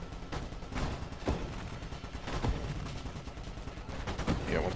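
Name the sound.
ship firing bullets, from the video game Nova Drift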